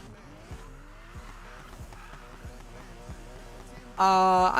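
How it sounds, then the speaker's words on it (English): A car drifting hard, its engine tone wavering underneath, then a loud, sustained tire squeal bursts in at the end. No one speaks. "yeah, that's a pretty hard drift"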